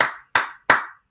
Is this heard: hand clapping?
yes